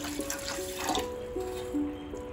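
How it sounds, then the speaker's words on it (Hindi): Water poured onto fenugreek seeds in a bowl, a brief soft trickle with a few faint splashes, close and quiet, with tonal background hum and no speech. "और मुझे इसमें डाल देना है पानी"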